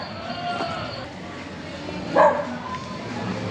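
Dogs bark faintly in the distance on a suburban street in Recife, with one brief, louder yelp standing out above the constant outdoor street ambience.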